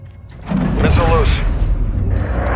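A missile launches in a video game with a loud booming blast and a rumbling roar that trails off, with a voice speaking over part of it.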